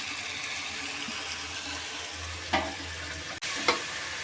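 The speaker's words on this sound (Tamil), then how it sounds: "இப்போ தக்காளி நல்லா வதங்கிடுச்சு" Tomatoes with turmeric and salt sauté in a pan, a quiet steady sizzle with a few brief scrapes and clinks of a spoon against the pan.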